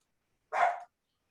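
A single short dog bark, close and fairly loud, heard alone against silence in a home setting.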